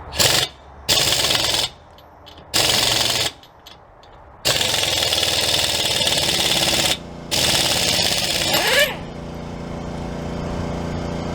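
Bursts of a Blue Point air impact wrench tightening a nut: several loud, close, rattling hammering runs of about a second each separated by pauses, then a longer burst before a fading hiss.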